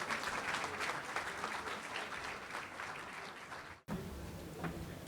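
Steady crowd applause for the mayor at a King Day prayer breakfast, many hands clapping in a continuous roar that cuts off abruptly near the end before a quieter room tone with faint murmur.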